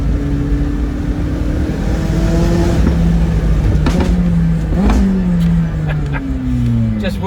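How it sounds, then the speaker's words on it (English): A McLaren 675LT Spider supercar engine revs loudly and close by, its pitch rising and falling through several bursts of throttle in a continuous roar with no talking. "just to listen to this amazing car"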